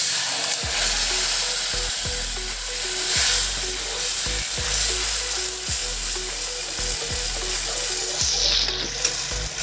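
Tomato paste hits spices frying in oil in a pan for an Assamese sour rohu fish curry, producing a loud, steady sizzle with a rhythmic series of low knocks as the mixture is stirred.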